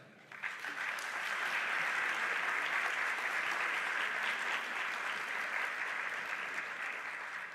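A roundtable audience gives sustained, even applause for the panel members, a dense wash of clapping that starts abruptly, holds steady and tapers slightly at the end, with faint voices underneath.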